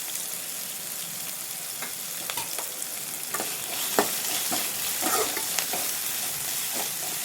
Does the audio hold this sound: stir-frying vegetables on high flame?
yes